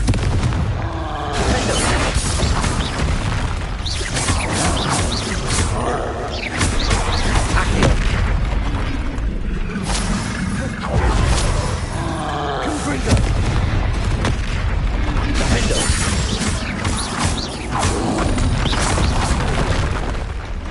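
Confringo spell explosions in Hogwarts Legacy, a dense, continuous stream of loud booming blasts and bursts from game combat, with a voice shouting spell names over the din.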